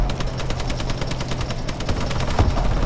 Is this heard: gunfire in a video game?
yes